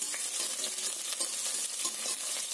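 Sliced onions fry in half a spoon of oil in a pan for horse gram sprout sambar, a steady bright sizzle with faint stirring scrapes throughout and no voices.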